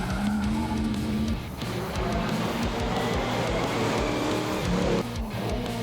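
Race cars lapping a 2.5-kilometre street course at a time-attack motorsport festival: a continuous loud engine roar with tire noise, close and unbroken, with no talk.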